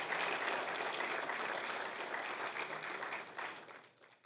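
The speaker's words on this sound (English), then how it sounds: "Give them a round of applause." Sustained audience applause at a celebration of faith, friendship and hope marking Nostra Aetate at 60, a dense steady wash of clapping from a large crowd that thins and fades out near the end.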